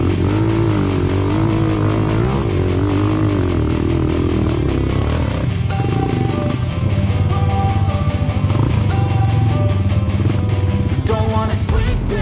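Trail motorcycle engine revving under load while riding on a rough dirt track, a loud continuous drone with rising and falling pitch and clattering mechanical bursts near the end, heard up close.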